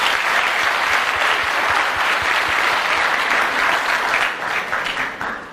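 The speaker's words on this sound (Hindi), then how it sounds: "इसके ऊपर तालियां होनी चाहिए" Studio audience applause on a television talk show, loud sustained clapping from many hands that fills the whole stretch and tapers off slightly at the very end.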